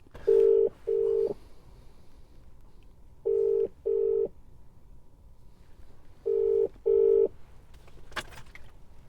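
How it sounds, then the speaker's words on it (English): A phone call rings out with three pairs of steady ring tones separated by short gaps. A brief click follows near the end, and there is no talk. "I think it would only be sporting if I rang Jonathan just to see how he's getting on."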